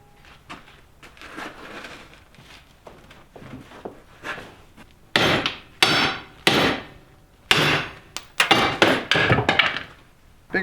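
Heavy hammer blows on a metal trebuchet counterweight clamped in a large vise, softer taps at first, then loud, ringing strikes in irregular bursts close by.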